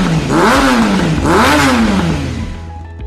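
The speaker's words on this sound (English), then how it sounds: "Motorcycle" A motorcycle engine revs up twice in quick succession, each surge rising and falling in pitch, loud and close, before settling into a fading idle rumble.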